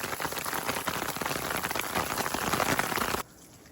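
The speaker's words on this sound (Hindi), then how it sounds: "बहुत तेज़ बारिश हो रही है इस वक्त यहाँ पे।" Heavy rain pours onto surfaces at a home in Murree, Pakistan, a loud, dense, close patter that fills the scene and then cuts off abruptly near the end.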